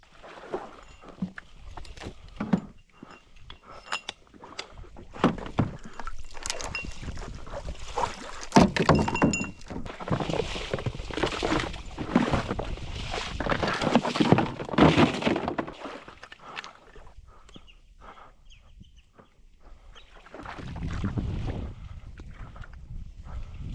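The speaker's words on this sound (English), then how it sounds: "So, gonna grab the kayak real quick." A kayak is launched and paddled solo across a hidden marsh toward a cattail edge on a teal duck hunt, with steady splashing strokes, hull scrapes and knocks, and hollow thunks close by; no one talks.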